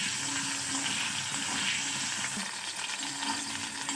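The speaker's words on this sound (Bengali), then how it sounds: "অল্প আঁচে ভেজে নেব যাতে পুড়ে না যায়।" Potatoes fry in hot oil in a wok over low heat, producing a steady dense sizzle with a faint underlying hiss, close and continuous with no voices.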